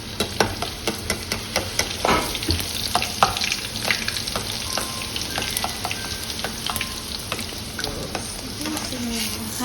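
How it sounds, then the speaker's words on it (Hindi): A large bhatura frying in hot oil, loud crackling sizzle with irregular sharp pops and scraping strokes throughout, close and continuous with no talk. "अब हम डालेंगे इतना बड़ा भटूरा।"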